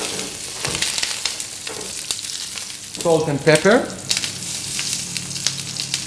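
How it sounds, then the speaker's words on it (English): Cherry tomatoes sizzle in olive oil in a pan, a steady frying crackle with a louder burst of spitting partway through as they hit the oil, while a voice speaks briefly. "Just going to put the cherry tomatoes in and let them sizzle."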